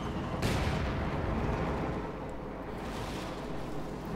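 Howitzer artillery fire in the strategy game Company of Heroes 2, a single heavy boom with a rumbling tail that fades over a few seconds, heard without any talking.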